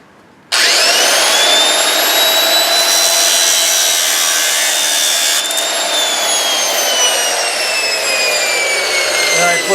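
Bench grinder abrasive wheel cutting through metal in a workshop, a loud continuous high whine with a steady gritty rasp that starts abruptly and runs unbroken, its pitch sagging slightly under load partway through.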